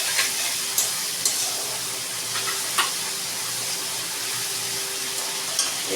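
Ground spices fry in a pan for a fish-head moong dal, with a splash of water added to keep them from burning. There is a soft, steady sizzle broken by a few faint clinks of a spoon or spatula, and nobody speaks.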